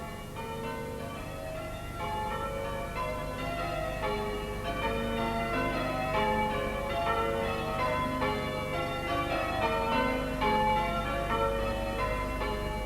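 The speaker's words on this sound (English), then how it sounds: "In 1997, all 8 bells were rehung and tuned." Eight tuned church bells ring from the Kingsclere bell tower in a continuous overlapping peal, steady and fairly loud with a resonant ringing wash throughout.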